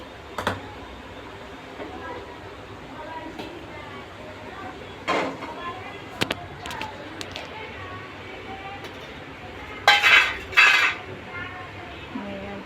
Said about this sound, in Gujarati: હવે વઘાર કરવા માટે તપેલું અહીંયા મૂકશું